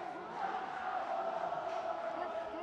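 Mamaô supporters chanting in the stands at an under-17 amateur football match, a steady, distant crowd roar with voices blended together.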